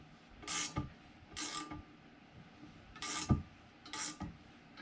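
A ratchet wrench clicks in four separate bursts as a swing arm bearing is slowly pressed into a Suzuki Bandit 1200 motorcycle. The clicking sounds close by, with quiet gaps between bursts.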